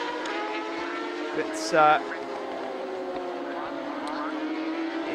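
Race cars roar through the corkscrew turn during a circuit race, a steady layered engine drone filling the scene with a brief higher whine near the middle, while a commentator talks over it.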